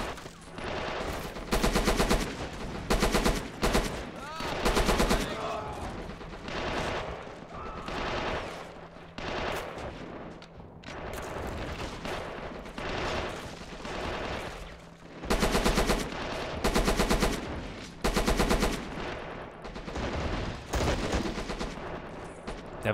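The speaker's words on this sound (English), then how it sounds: "They have a small machine gun trench down here." Bursts of machine gun fire from the video game Men of War, running a Killzone Helghast mod, rattle in long loud rapid volleys with short pauses between, sustained throughout a battle.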